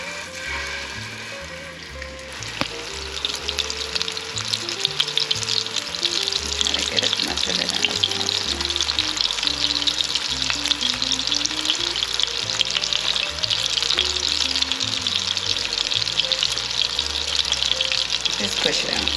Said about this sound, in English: it right out of the package into the frying pan. Very slowly because there is oil in this pan.